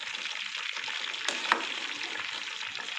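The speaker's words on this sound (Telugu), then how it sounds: "ఇలా మనం ఇట్లా కదిలిస్తూ ఉండాలి," Chicken sizzles steadily in a hot pan while being stirred, with a bright crackling hiss throughout and a couple of sharper scrape or clink accents from the spoon.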